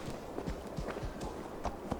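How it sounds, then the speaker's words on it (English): Horse hooves clip-clop at a steady walking rhythm in Assassin's Creed Valhalla, moving through England, with soft repeated thuds close by and no talk over them. "My horse is really gonna follow me now."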